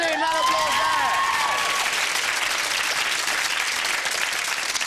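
A television studio audience at a 1997 quiz show applauds, a dense continuous round of clapping and some cheering, with a voice speaking over the opening second.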